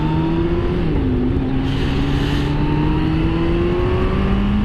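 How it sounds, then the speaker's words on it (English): Kawasaki ZX-14R sport motorcycle accelerating hard on throttle, a loud continuous engine drone whose pitch climbs steadily through the gears with a brief shift dip, heavy wind roar throughout, no talking. "I'm not even going all the way on the throttle, and I just hit 100 miles an hour."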